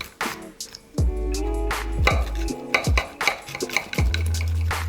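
Knife cutting through a French duck leg confit, crisp skin and tender meat, with clattery cutting strokes, scrapes and taps on a board in a close, busy mix, with no talk.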